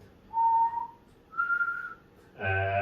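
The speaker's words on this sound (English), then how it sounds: "I can whistle 2 notes now" Two whistled notes, each held about half a second with a pause between, followed by a brief rising, breathier whistle, from someone retraining a weakened facial nerve; faint and close, no talking.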